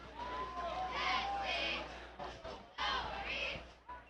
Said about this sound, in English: Lively crowd here, as you can probably hear.